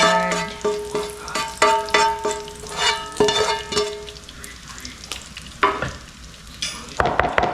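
Strips of bacon sizzle and crackle in a frying pan while being stirred and turned, a steady hiss with scraping utensil clicks throughout.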